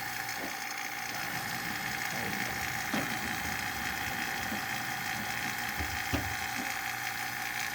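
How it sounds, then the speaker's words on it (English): A vacuum pump runs with a steady mechanical hum, a constant rattling drone and occasional soft clicks, evacuating a car air-conditioning system, continuously at close range without any voices. "I'm going to turn the vacuum pump off"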